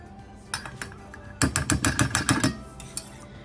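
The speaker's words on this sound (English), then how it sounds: "Let's give this a good whisk." Vanilla bean glaze for scones being whisked in a bowl, a quick burst of rapid rhythmic clinking strokes after a few isolated taps, then tapering off.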